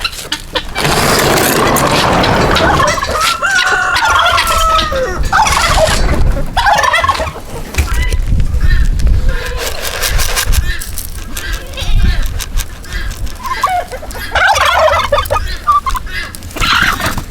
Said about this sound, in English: Hey, turkey.